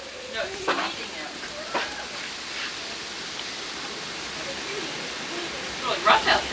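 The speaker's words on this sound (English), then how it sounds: "No, it's sleeting now." Sleet driven by wind in a snowstorm makes a steady broadband hiss outdoors, with occasional gusts and buffeting, while people talk intermittently over it.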